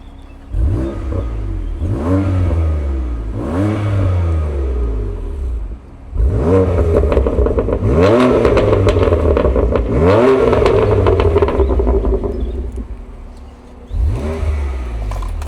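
A car engine revs repeatedly with its exhaust note rising and falling in a series of loud, sustained bursts, heard up close while the car stands still, with short dips between the revs.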